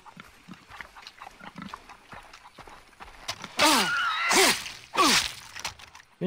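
Pigs in the video game Far Cry 3 giving loud, close squealing grunts in a few bursts toward the end, after quieter footsteps and rustling.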